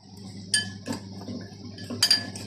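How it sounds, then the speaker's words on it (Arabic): Spoon clinks against a bowl while ground spices and minced garlic are stirred together, a few sharp metallic taps spaced apart over quiet background. "دلوقتي بنقلب كل المكونات دي مع بعض كده"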